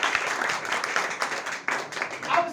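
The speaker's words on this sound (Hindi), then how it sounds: "एक बार बजाओ ना ताली" Audience clapping at a seminar hall talk, a short burst of uneven hand claps from a modest crowd, lively and moderately loud for a couple of seconds.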